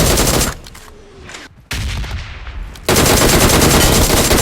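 Loud automatic gunfire from the battle game PUBG, sustained bursts with a brief pause near the middle, then a dense continuous volley to the end, with no talk.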